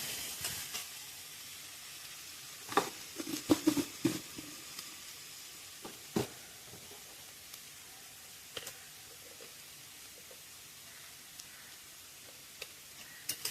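Brinjal and mixed vegetables fry with a soft, steady sizzle in a pan, punctuated by a cluster of sharp clicks and taps from stirring or utensils early on, then quieter sporadic ticks.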